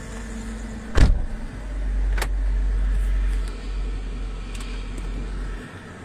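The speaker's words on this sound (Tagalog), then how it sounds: "andar na generator ng sasakyan" A car engine runs at idle during a beach park blackout, used as a generator to charge a phone; a sharp clunk comes first, then a steady low idle drone close by.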